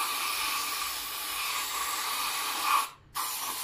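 A can of spray paint hisses in one steady, loud, continuous spray that cuts off briefly near the end and then starts again.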